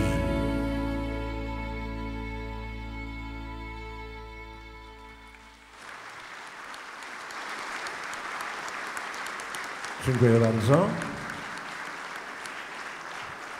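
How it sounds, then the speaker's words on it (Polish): An audience at a Polish memorial evening of songs bursts into steady clapping after a sustained musical tone fades, continuing to the end, with a brief spoken voice over it. "Proszę mnie tak nie rozpieszczać tymi oklaskami."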